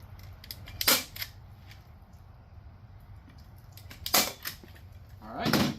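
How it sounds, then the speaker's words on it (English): A staple gun fires into a raccoon pelt stretched on a wooden board, giving three sharp, loud snaps spaced a few seconds apart over a quiet background. "I'm going to put a couple staples in right there."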